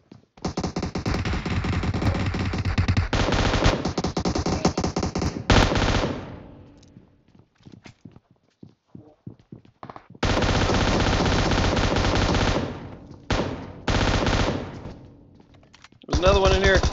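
Rapid gunfire in PUBG Mobile, a shotgun among the shots, heard as long dense bursts of loud blasts broken by brief pauses, close and overpowering.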